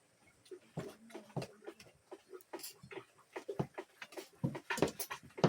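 Dogs bark and yelp in scattered, uneven bursts close by, with some voices mixed in underneath.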